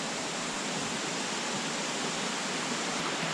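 Waterfall at Ricketts Glen State Park shooting far out over a gorge, heard as a steady, dense broadband roar of falling water with no breaks and no voices.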